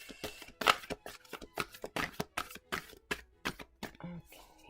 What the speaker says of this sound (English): I love these cards, but oh my gosh, they're so hard to shuffle.